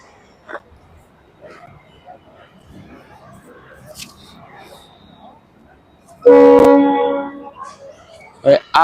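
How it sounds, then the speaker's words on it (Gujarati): A loud train horn blasts for about a second and a half at Bhagat ki Kothi railway station, after a stretch of quiet talk and station murmur, with a couple of short bursts at the end. "આપણે આવી ગયા ભગત કી કોઠી રેલવે સ્ટેશન."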